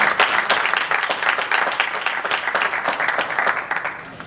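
Wedding guests in Paris burst into sustained applause and cheering for the bride and groom, a dense, steady wash of clapping that fills the room for a few seconds with a faint voice or two mixed in.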